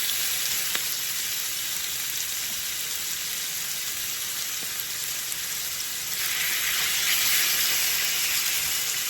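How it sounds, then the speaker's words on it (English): Chicken breast fries in a pan for Jamaican rasta pasta, giving a steady, close broadband sizzle that grows a little louder and brighter after a few seconds, with no talking. "I'm going to allow this to fry."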